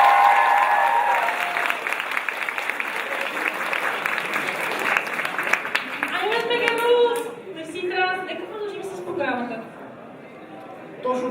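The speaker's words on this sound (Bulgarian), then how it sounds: "Моля си аплодисменти" Audience applause at the opening of an anime fan event, loud sustained clapping and cheering for several seconds that fades out, followed by a person speaking and quieter crowd chatter.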